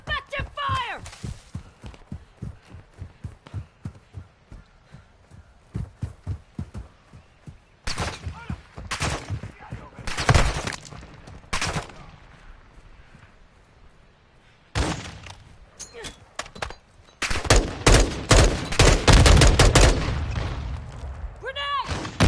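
Gunfire in the Modern Warfare 2 video game: rapid automatic bursts and scattered single shots, loud and close, with dense firing toward the end, mixed with shouted voices.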